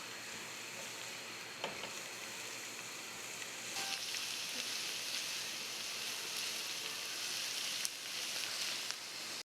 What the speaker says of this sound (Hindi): अब हम लहसुन और अदरक को सौटे कर लेंगे।